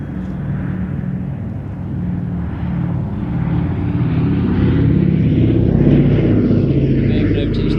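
Propeller engines of the B-17 bomber Sally B drone steadily at an airshow, a loud, sustained rumbling roar that swells slightly as the aircraft passes, with announcer commentary faintly mixed underneath.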